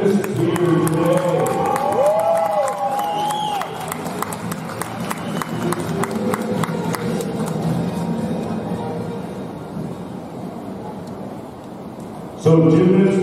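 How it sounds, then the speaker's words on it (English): A crowd at a gymnastics national championship meet applauds the gymnasts with steady, dense clapping that fills the hall, while a voice carries over the applause. "how about a great round of applause for all of our gymnasts here today"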